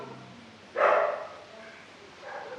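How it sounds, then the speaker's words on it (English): Dogs bark once nearby, a single loud burst, followed by quieter barking farther off near the end. "The dogs are barking."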